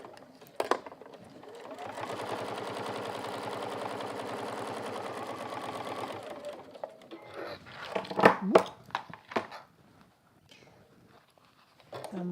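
A sewing machine stitches through several layers of fabric for a one-piece go bag, running in a steady buzzing burst of several seconds, with brief handling clatter and short stops before and after.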